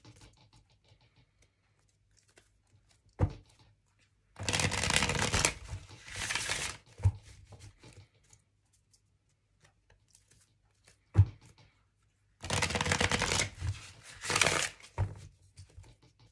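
Tarot cards are shuffled up close for a reading in two rounds of riffling, each made of several short crisp bursts, separated by quiet pauses and single soft taps.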